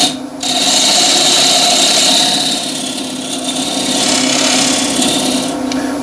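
A wood lathe spinning a big bowl at 1000 RPM while a scraper cuts a groove, giving a steady, close, loud rasping scrape with a low hum underneath for several seconds.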